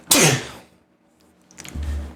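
One loud close sneeze bursts out at the start, then quiets, followed by a lower rumbling breath or throat noise near the end.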